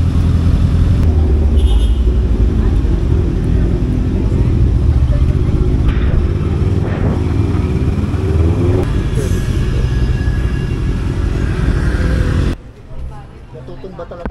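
Bristol Veloce 500 motorcycle engine revving hard on a night mountain road ride, a loud continuous roaring rumble with wind noise that cuts off sharply near the end, with a voice speaking over it.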